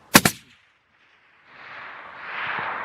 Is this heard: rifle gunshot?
yes